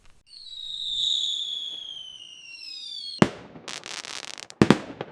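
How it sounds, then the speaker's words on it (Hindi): A sky shot firework rocket whistles as it climbs for about three seconds, then bursts with a sharp crack followed by crackling, and a second loud pop comes near the end. "मेरे पास बस ये एक स्काई शॉट पड़ा है, इसी को जला लेते हैं।"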